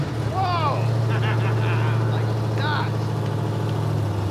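A muscle truck's EFI-fed engine runs at a steady, loud rumbling idle throughout, with people talking over it.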